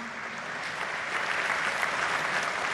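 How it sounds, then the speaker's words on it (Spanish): Steady applause from an audience at an Argentine Industry Day speech by Cristina, a dense wash of clapping that swells slightly and holds for nearly three seconds with no voices. "Creo que también eso merece un aplauso"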